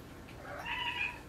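A pet cat named Micah gives a single short, rising meow, close by, in a quiet room during a makeup session.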